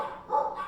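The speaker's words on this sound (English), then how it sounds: "Sorry for the barking, there's going to be interruptions." A dog barks in the background of a knife-sharpening session on a BGM full flat ground mini Bowie in Z-Wear steel, a short muffled burst that swells midway and lingers without a clean break.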